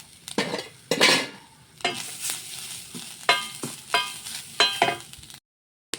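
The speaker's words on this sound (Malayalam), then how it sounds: "ഒരു മുറി തേങ്ങ എടുത്തിട്ടുണ്ട് അതിനെ ആദ്യം വറുക്കുകയാണ്" Bursts of scraping and sizzling as coconut is stirred in a dry pan, uneven strokes with short pauses, close by, ending in silence.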